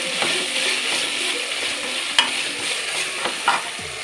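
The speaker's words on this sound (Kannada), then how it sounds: "ಹೀಗೆ ಮಿಕ್ಸ್ ಮಾಡಿಕೊಂಡು ಇದರ ಹಸಿ ವಾಸನೆ ಹೋಗೋ ತನಕ ಇದನ್ನು ನಾವು ಹೀಗೆ ಫ್ರೈ ಮಾಡ್ತಾ ಇದ್ದೀವಿ" Coastal-style crab sukka masala is stir-fried in a pan until its raw smell is gone, making a constant close sizzle broken by a few sharp spatula knocks against the pan.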